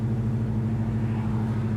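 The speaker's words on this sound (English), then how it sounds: "Car does have a nice throaty sound to the exhaust as well." A steady, deep V8 rumble from a 1969 Chevrolet Chevelle muscle car with strong low tones holds constant throughout, idling nearby with a throaty exhaust.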